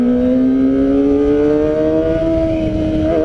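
Kawasaki ZX25R motorcycle fitted with an Arrow exhaust, heavily modified, revving loudly and close by with a steady high-pitched engine whine that climbs gradually in pitch, alone without talk.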